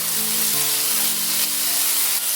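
Chopped green and red chillies fry in a pan, a dense, close sizzle that hisses steadily for a couple of seconds with no voices.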